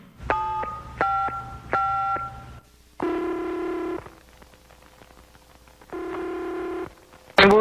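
A landline telephone plays a rapid run of touch-tone dialing beeps in three short bursts, then two long, loud ringback tones separated by a silent gap, with a brief sharp noise at the very end.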